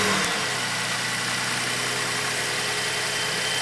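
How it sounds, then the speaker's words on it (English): A car engine idles steadily to test a newly installed secondary alternator, a constant running hum and vibration with no talking. "Then I ran my engine for 10 minutes to test the alternator."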